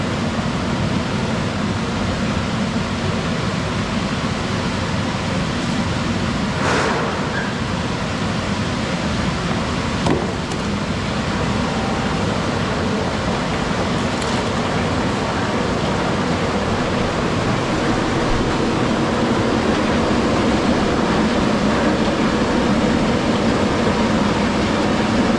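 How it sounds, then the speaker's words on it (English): Strong air blower on a green bean cleaning machine, turned up high to lift light trash away from the beans, giving a steady loud broadband rush that runs unbroken through the whole stretch, with no talking. "we got the air turned way up, so everything that's light is gonna fly up here and come into this"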